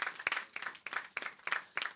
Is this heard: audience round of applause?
yes